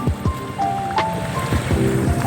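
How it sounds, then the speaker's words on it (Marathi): Continuous watery rush fills the clip, a steady flowing wash with scattered splashy bursts and faint tonal bits, no talking. "इथं पाणी चालू झालंय आहे ना"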